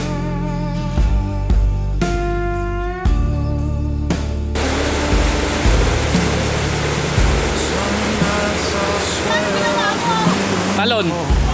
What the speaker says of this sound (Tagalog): Talon.